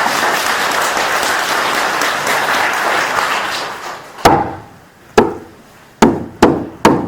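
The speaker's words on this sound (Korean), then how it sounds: "박수 한번 치세요." Audience at a New Year's healing dharma gathering at a Korean temple claps steadily, then the applause fades into a few loud, sharp single claps spaced apart.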